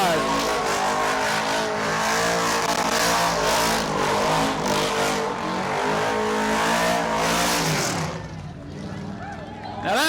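A pure stock race car doing a celebratory burnout at a short track, loud sustained engine revving and tyre squeal close by with an announcer talking over it, then the roar drops away near the end.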